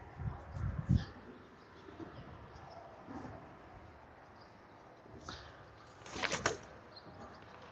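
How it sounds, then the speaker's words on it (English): Faint, distant bird calls and soft cooing drift over quiet outdoor ambience, with a few brief louder chirps near the end. "I love hearing the birds."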